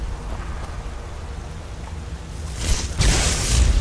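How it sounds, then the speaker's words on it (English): A crackling lightning spell cast in the video game Skyrim, a steady hiss with no voice over it that swells and grows louder near the end. "I got a fistful of lightning."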